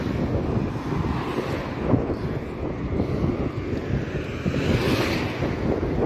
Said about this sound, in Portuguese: Vento oeste, que eles falam